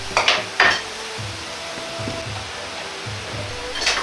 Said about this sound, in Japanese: 豆板醤小さじ1とニンニク、生姜、ネギを入れ炒めます。